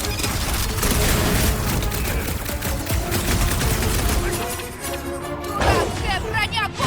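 Heavy-caliber gunfire rattles through a battle in Marvel's Guardians of the Galaxy video game, loud rapid bursts and crashes running almost continuously, with game voices speaking over the shooting.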